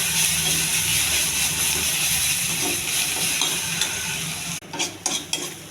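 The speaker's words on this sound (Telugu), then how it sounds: "అల్లం కూడా వేగాలి" Ginger sizzles and fries in a pan for a ridged gourd chutney, with steady crackling and occasional stirring scrapes close by, ending with a few sharper clinks of a utensil against the pan.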